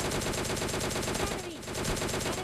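Rapid automatic gunfire from the mobile battle royale game PUBG Mobile Lite rattles in loud, repeated bursts throughout, with only a brief dip before it resumes.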